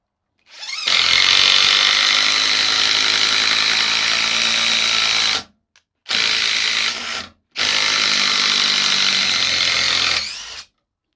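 A DeWalt DCF870 hydraulic impact driver runs at third speed in three loud sustained bursts, a long one then two shorter ones split by brief silences, with a dense high whirring buzz.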